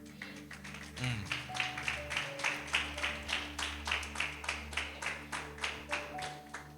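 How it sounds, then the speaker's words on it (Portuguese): A church congregation at an apostolic school service claps in a steady rhythm, moderately loud and close, with a low held organ or keyboard tone underneath. "Aplaudo o Rei da Glória."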